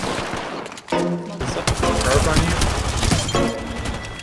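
Rapid pistol gunfire from the P2020 in the battle-arena shooter Apex Legends, a loud dense burst of repeated shots running for several seconds amid other game noise.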